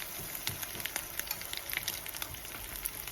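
Spoonfuls of saltfish fritter batter fry in a pot of hot oil, a steady close sizzle with crackling pops throughout and no talking.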